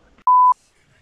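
A phone gives a single short electronic beep, a clean steady tone lasting about a quarter second, loud and close against a quiet background.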